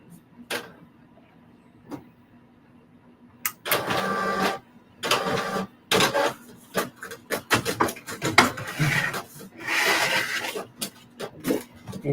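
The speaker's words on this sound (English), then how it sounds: "So I'm going to send this to the printer." A desktop printer whirs into action, a faint click and startup followed by repeated mechanical bursts of rolling and feeding, near and fairly loud, with short pauses between passes.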